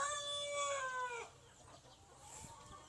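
A large rooster or chicken crows in a long drawn-out call, followed by softer clucking and faint farmyard sounds, fairly close.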